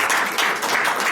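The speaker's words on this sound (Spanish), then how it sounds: "pido un aplauso de incorporación" An audience at a talk applauds in a steady, even wash of many hands clapping, with no voices over it.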